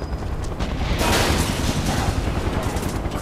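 Gunfire and combat noise in the Final Fantasy VII Remake video game, a moderately loud wash of rapid shots and rumble that swells briefly near the middle over a steady background.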